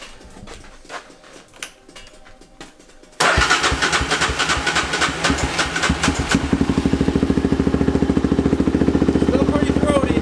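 A 500cc engine fitted to a Chevy pickup Power Wheels truck, with its exhaust newly packed, cranks, catches and settles into a loud, throaty, rapidly pulsing idle close by, after a quiet start with faint handling noises.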